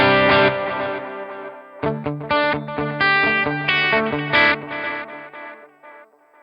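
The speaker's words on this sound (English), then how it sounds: "Let's just hear what the delay sounds like." Electric guitar played through a delay effect with heavy wow and flutter on an HX Stomp XL, phrases of bright chords and notes trailing into wavering repeats, loud and close, fading out at the end.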